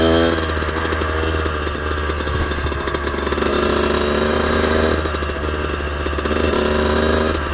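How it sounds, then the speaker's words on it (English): A 125cc two-stroke dirt bike engine revs loud and close, a raspy buzz rising and falling in pitch with the throttle, running steadily throughout with no speech. "It's no dual sport bike. I mean, obviously a 125 two-stroke."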